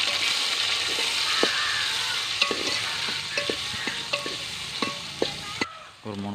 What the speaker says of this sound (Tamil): நறுக்கி வச்சிருந்த வெங்காயம் போட்டுக்கலாம்,